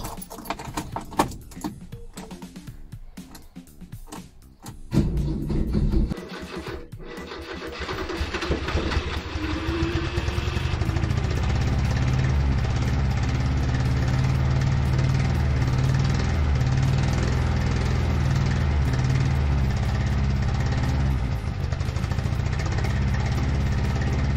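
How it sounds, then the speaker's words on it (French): A vintage Renault 4L engine cranks with a few rough turns, catches and settles into a steady, loud mid-pitched idle that runs on alone for about twenty seconds. "Je vais d'ailleurs essayer de la démarrer."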